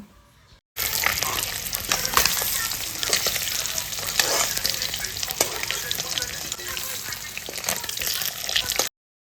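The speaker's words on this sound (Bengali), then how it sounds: "এবার মাছের পিসগুলোকে উল্টে পাল্টে ভাজবো" Snakehead fish pieces fry in a wok while being turned over, a loud, close, steady sizzle broken by spatula scrapes and stirring clinks, with no speech.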